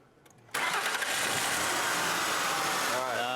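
A car engine cranks briefly and then catches, settling into a loud, steady running roar with a rising tone near the end.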